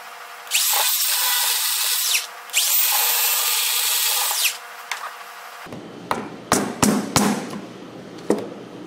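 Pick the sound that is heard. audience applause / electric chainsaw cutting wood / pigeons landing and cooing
electric chainsaw cutting wood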